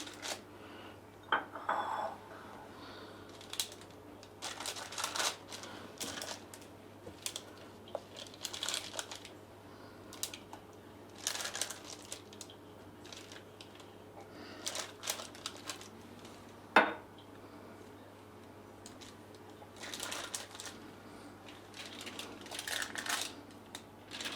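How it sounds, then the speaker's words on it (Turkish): Oiled drinking glass pressed repeatedly into potato bread dough to open wells, giving scattered soft knocks and taps with brief clatters, close and fairly quiet, no talk. "Bardağında şöyle altını yağlayıp yapışmasın diye hamura şöyle yuvalar açıyorum."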